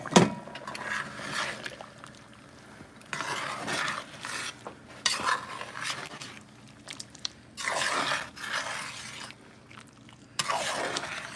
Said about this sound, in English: So I'm gonna stir it again.